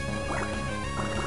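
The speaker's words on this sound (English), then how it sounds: "Water gun." A Water Gun attack in Pokémon Sapphire: a steady gurgling, splashing water effect that runs for just over a second, with brief surges over a constant tone.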